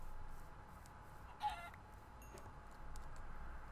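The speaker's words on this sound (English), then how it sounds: "Chickens." Minecraft chickens cluck in brief faint bursts in the video game, a single clearer cluck standing out over a low steady background hum.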